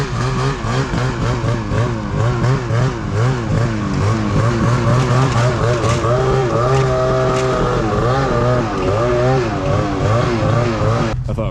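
A Ski-Doo snowmobile runs close by, its engine droning and revving in rising and falling waves with no talking.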